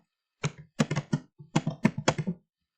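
Quick bursts of keystrokes on a computer keyboard, a short irregular run of crisp taps close up with brief gaps, and no talking.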